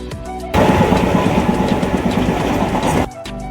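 A train heard from on board or close by: a loud, steady rhythmic clatter and rumble starts abruptly, runs for about two and a half seconds, then drops away to a quieter background.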